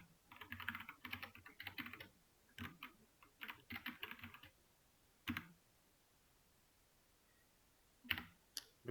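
Someone types on a computer keyboard close by, quick bursts of key clicks broken by short pauses, then a few isolated taps.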